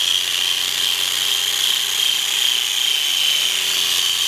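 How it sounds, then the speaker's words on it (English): Power drill fitted with a stripping wheel grinding enamel off a cast iron skillet, a continuous high-pitched whine and abrasive scraping held steady and loud, with no speech. "I'm going to use this this stripper here on a power drill, and hopefully I can take off the enamel"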